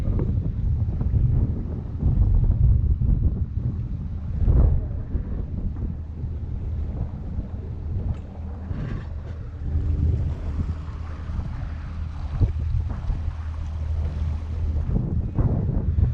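Wind buffets the microphone over a steady motorboat engine drone and the wash of water in a harbor, with no one speaking.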